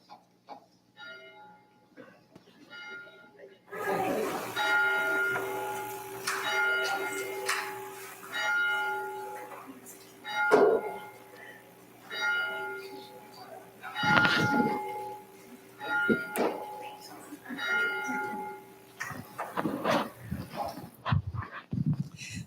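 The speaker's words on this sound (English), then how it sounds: "We will begin our service with the ringing of the bell" A church bell rings steadily at the opening of a Sunday service, its ringing tones repeating and overlapping as a dog barks and whimpers in the background.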